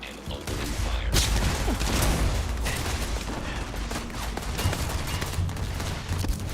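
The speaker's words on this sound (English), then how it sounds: "I am opening fire." Sustained gunfire from a firefight in the video game Starfield, a dense, continuous barrage of loud shots and impacts that runs for several seconds without pause.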